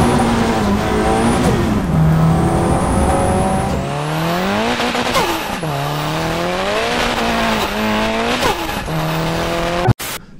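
Turbocharged rear-wheel-drive Honda Civic making about 540 hp without VTEC, its GTX turbo spooling as the engine revs rise and fall in loud, sweeping pitch climbs with a whistling whine overhead, cut off abruptly near the end.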